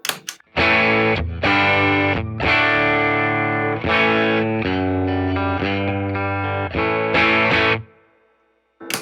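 An electric guitar plays through an Engager Boost pedal into a Fender Tone Master Deluxe Reverb amp, a run of loud, driven chords and sustained notes in an uneven rhythm, ending with a clean stop and a brief ring.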